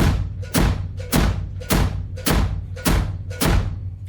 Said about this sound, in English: pump the hi-hat with the kick at the same time, like this.